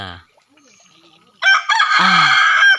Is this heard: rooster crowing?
yes